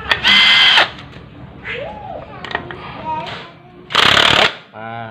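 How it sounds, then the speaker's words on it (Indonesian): An impact wrench hammers the nut on a 2015 Honda Beat ESP scooter's CVT in two loud, rattling bursts a few seconds apart, with someone talking in between. "karena kita ada impact, tak bantu impact dikit"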